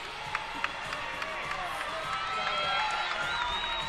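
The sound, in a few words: gymnastics crowd cheering as vault begins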